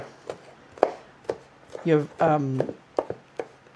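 A knife chops garlic on a board in a home kitchen, giving a slow series of crisp, evenly spaced taps close by, briefly interrupted by someone speaking in the middle.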